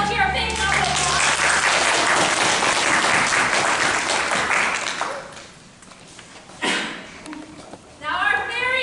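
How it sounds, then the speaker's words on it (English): A crowd claps for a volunteer at a live animal presentation, dense applause fading after about five seconds, with a few scattered claps and voices near the end. "Let's give our volunteer a big round of applause."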